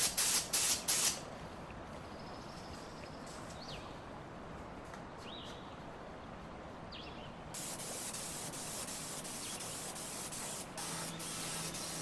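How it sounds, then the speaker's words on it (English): Clear satin lacquer sprays onto a restored wooden dresser as a steady, close hiss, starting after a few brief bursts and growing slightly louder partway through. "For the last coat, I'll spray on this Finisher's Choice clear satin lacquer"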